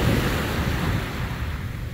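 Strong waves wash ashore at the Manila Bay beach at Dolomite Beach, a continuous broadband roar of surf mixed with wind buffeting the microphone, close and steady, with no voices.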